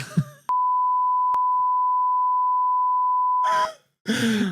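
A loud, steady censor beep at one pitch runs for about three seconds over a phone number spoken on a podcast. A brief voice comes just before it, and talking starts again right after.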